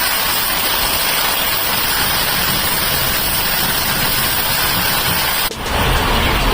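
Heavy rain falling in Arizona, a loud, continuous hissing roar that stays steady throughout apart from one brief dip near the end, with no talk.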